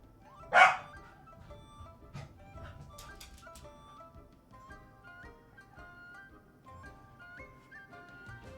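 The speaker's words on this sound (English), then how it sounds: "It sounded like someone's dog had got a cat or something." A dog barks sharply once, close and loud, outside at night, followed by fainter yips and whimpering from neighbours' dogs under a steady background hum.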